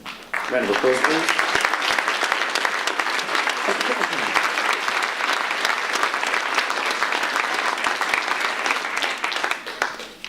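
Sustained applause from an audience at a school certificate of achievement awards ceremony, dense steady clapping filling the whole stretch, loud and close, fading slightly at the end.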